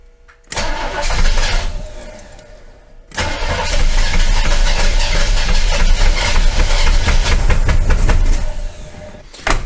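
A C3 Corvette with a Rochester carburetor and a fuel leak cranks and fires up, drops back briefly, then catches again and runs at a loud, rough idle close to the microphone.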